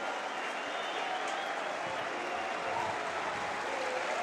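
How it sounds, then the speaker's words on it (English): Stadium crowd at a Barcelona football match applauding Arturo Vidal as he warms up on the sideline, a steady wash of distant clapping and crowd noise that holds throughout. "I think the applause is for Arturo Vidal, one of the players warming up"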